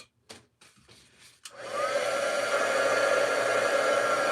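A hair dryer blows on wet paint on a wood round snowman craft. A few soft knocks and handling noises come first, then the dryer switches on and whirs steadily and close for the rest of the clip.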